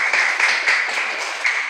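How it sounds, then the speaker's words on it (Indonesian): Classroom applause, a burst of many hands clapping together in a dense, even patter that holds steady for under two seconds, no voices over it. "tepuk tangan dulu."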